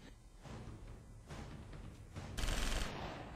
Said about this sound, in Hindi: ताबड़तोड़ गोलियां बरसाना शुरू कर दिया